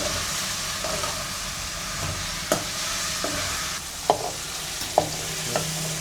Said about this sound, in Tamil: நல்லா வதங்கினா தான் அந்த எண்ணெயிலே வெந்தால் தான் கத்திரிக்காய் நல்லா டேஸ்ட்டாக இருக்குங்க